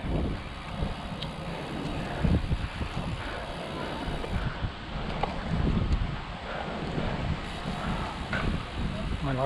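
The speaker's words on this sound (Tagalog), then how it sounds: "Malakas talaga ang hangin." Strong wind buffets the microphone in rough, uneven gusts, with rustling and a faint engine-like rumble underneath.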